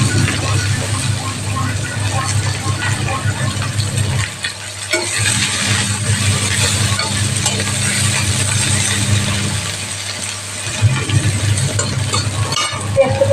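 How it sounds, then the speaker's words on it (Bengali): Chopped onions frying in hot oil with garlic, a continuous close hiss and crackle that holds steady for the whole stretch, with a low droning hum underneath and a brief dip partway through. "পেঁয়াজটাকে লাল করে ভাজা হয়ে আসো"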